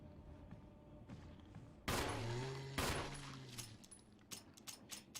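Gunfire from the Resident Evil HD remake on Nintendo Switch: a quiet lull, then two heavy booming shots about a second apart, each ringing out, followed by a scatter of smaller sharp cracks and clicks.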